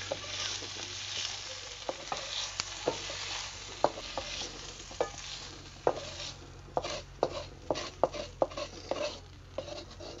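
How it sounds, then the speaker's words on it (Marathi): Roasted raw tomatoes being stirred and scraped in a pan over a wood-fired stove, a soft sizzle under repeated irregular metallic taps and scrapes of the utensil, no talking. "लालसर भाजलेला आहे आता काढून घेऊया या भांड्यात।"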